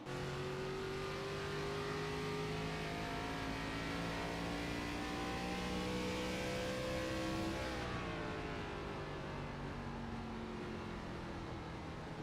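Race car engine in a racing video game at the Milwaukee Mile, heard on board from the cockpit: a loud, steady high-revving drone with rising pitch, then a sudden drop as the driver lifts and revs again, running throughout.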